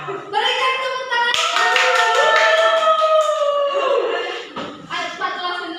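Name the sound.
clapping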